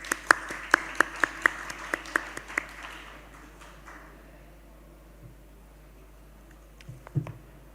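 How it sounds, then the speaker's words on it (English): Scattered, rhythmic claps ring out at a conference side event after the panel speakers finish. There are about a dozen distinct hand claps in the first three seconds, and then they fade into quiet room noise with a few faint knocks. "we could just end with a round of applause for all our speakers"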